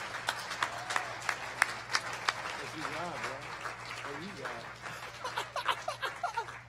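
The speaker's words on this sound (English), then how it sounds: "Yeah, you can clap" A worship congregation at Carriage House claps along, distinct sharp claps in a steady rhythm that quicken toward the end, fairly faint and mixed with a speaking voice and a low steady hum.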